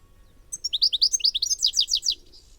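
A goldfinch calls in a quick run of bright, twittering chirps, close and clear over a quiet background, the notes tumbling in a lively cluster for about two seconds.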